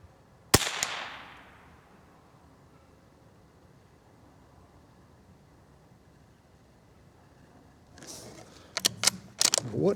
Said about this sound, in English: we're shooting at the top target, but I'm holding high on it